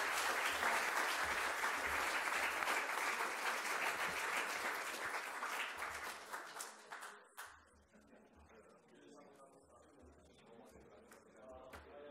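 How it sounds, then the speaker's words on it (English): An audience at a 2015 sustainable development conference applauds after a professor's introduction, a loud dense clapping that fades over several seconds and leaves scattered claps and a few voices. "Please join me in applauding Professor Nakicenovic."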